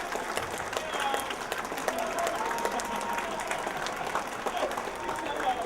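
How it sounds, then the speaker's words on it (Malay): Audience applause for Pian Habib at the launch of his book Balada, steady dense clapping from a seated crowd that carries on for several seconds, with a voice speaking over it. "Tepukan sekali lagi kepada Pian Habib"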